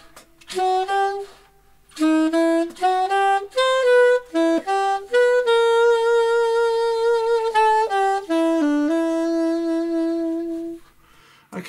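An alto saxophone plays a melody slowly and alone, legato, notes held and stepping gently up and down before fading out.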